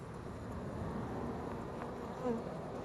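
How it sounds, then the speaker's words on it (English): A soft, steady hum of many honey bees buzzing close by on a comb in a hive inside a water meter box, continuous and low, with no talking. "See the bees we got still on the comb."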